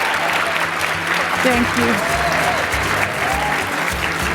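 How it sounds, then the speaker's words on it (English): A round of applause for the models closing a cultural fashion show featuring chiffon silk and draped designs, steady crowd clapping with music and a brief spoken thanks over it. "let's give all of our models one last round of applause"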